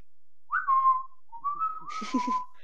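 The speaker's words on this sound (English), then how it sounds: "like that's the whistle. That is not a bird whistle." A person whistles a signal call rather than a bird whistle: two clear, sustained tones in short succession, the second followed by faint laughter and murmuring.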